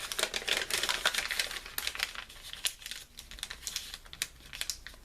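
Paper crinkles and rustles close up as a small paper mini journal booklet is folded and its edges creased, with uneven bursts of crisp crackling and brief pauses.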